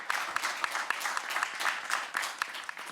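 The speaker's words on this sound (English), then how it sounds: "let's have a round of applause for all the 8 innovators who presented" An audience at a healthtech startup pitch event applauds the presenting innovators, a moderate, fairly distant stretch of steady clapping with individual sharp claps standing out.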